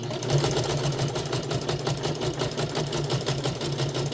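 A sewing machine stitches small fabric coaster pieces layered over batting, its needle running steadily in an even, fast mechanical whir close by without pause.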